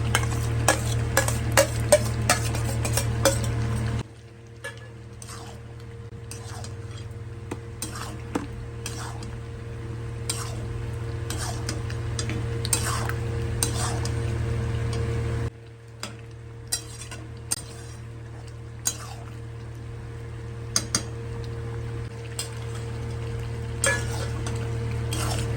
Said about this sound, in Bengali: ভালোভাবে চিকেন কষিয়ে নিয়েছি।